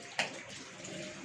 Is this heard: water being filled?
yes